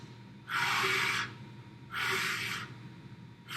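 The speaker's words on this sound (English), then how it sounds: "take a deep breath" Two deep breaths drawn before playing a clarinet, each a loud airy inhale about a second long with a pause between, close to the microphone and alone.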